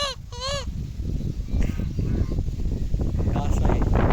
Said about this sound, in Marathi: आणि इथं बघा बदकं